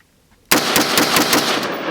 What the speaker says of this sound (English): I want to shoot it with the AR.